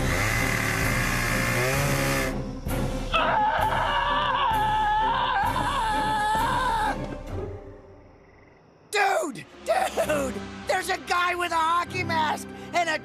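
A chainsaw engine roars and revs loudly in a cartoon, then cuts out, followed by frantic shouting and screaming voices.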